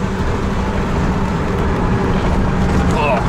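Steady, loud, broadband road and wind roar from inside a Renault Twizy Sport F1 electric car overtaking on a road, constant and unbroken throughout.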